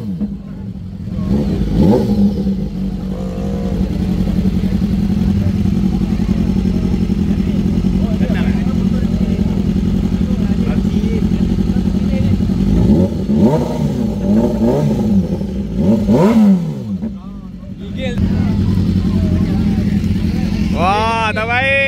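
Honda Goldwing motorcycle engine running at a charity ride, a loud, steady idle that swells with revving midway, with people talking nearby.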